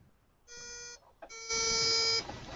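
A homemade CMOS 555 timer circuit powered by two AA batteries beeps in steady electronic tones, first a tone of about half a second, then a brief blip and a longer, louder tone, close up with no talk.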